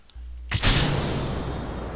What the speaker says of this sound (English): Let's go ahead and launch our rocket.